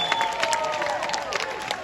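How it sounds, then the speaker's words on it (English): A crowd of kids and families cheers and claps at a football festival presentation at Butlin's Bognor Regis, a dense, steady roar with shrill whistling voices standing out, loud and continuous without spoken words. "Let's give them all a great big cheer."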